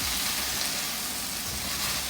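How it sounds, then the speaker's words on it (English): Vegetables sautéing in a pan for Jamaican Solomon Gundy give off a steady, close hiss of frying that stays even throughout, with no voices. "it's been about 7 minutes since these have been sauteing"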